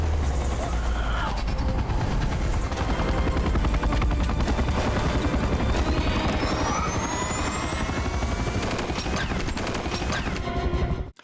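A helicopter from a World War Z zombie movie scene roars loudly and steadily with dense rotor thudding, joined by bursts of gunfire and clattering mechanical noise throughout, the din cutting off abruptly at the end.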